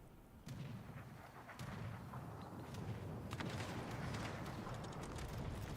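Missile hits in the naval battle game World of Warships: Legends, a low rumbling barrage of distant booms and thuds with scattered sharper impacts layered over continuous battle noise.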